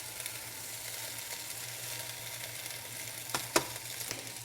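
Garlic chicken sausages sizzle steadily in a pan, a constant close frying hiss with a few brief clinks and shuffles near the end as they are turned.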